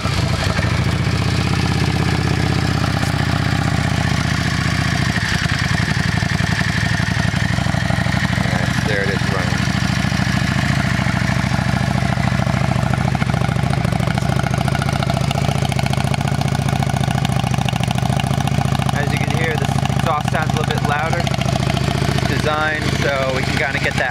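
A 2004 Yamaha V-Star 650 Custom motorcycle with a 650cc engine idles on choke after a cold start, a steady close rumble throughout while a person talks over it.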